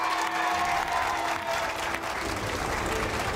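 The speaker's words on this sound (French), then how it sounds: "Applaudissements pour eux tous!" A crowd on a house-building site applauds the craftsmen, and the steady, fairly faint clapping holds evenly for a few seconds.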